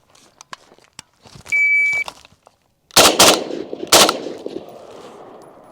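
FN FNC rifle fired during shot timer drills: a shrill timer beep, then a quick pair of sharp, loud gunshots and another single shot, each with a ringing outdoor decay.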